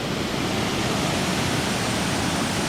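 Steady, loud rush of a waterfall on a remote jungle trek in Vietnam, a dense continuous roar of falling water filling the scene with no voices.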